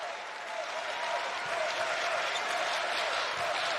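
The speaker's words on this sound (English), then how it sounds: "this crowd is getting so excited for Pecatonica" Large arena crowd at the 2025 IHSA Class 1A girls basketball state championship cheering and applauding for Pecatonica, a loud, steady roar of claps and voices that holds without a break.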